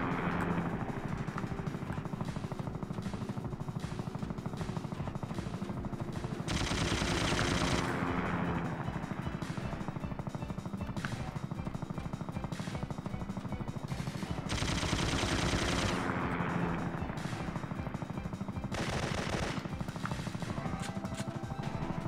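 Rapid automatic gunfire and heavy mechanical roar of a helicopter in the video game Syphon Filter, dense and continuous throughout, with louder sustained bursts of shooting recurring every few seconds.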